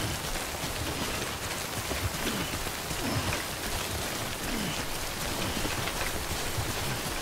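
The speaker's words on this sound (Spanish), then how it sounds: "Uy, la lluvia." Steady, dense rainfall in the video game Death Stranding, hissing evenly all the way through, with a constant patter of drops and no voices.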